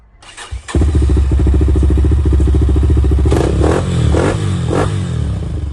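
A Kovi Advance 250cc motorcycle with a freshly replaced gearbox, countershaft, shift forks, piston and rings starts up with a clatter and settles into a loud, steady idle close by, with a few brief blips of the throttle.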